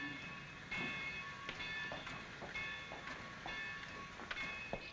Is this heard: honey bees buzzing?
no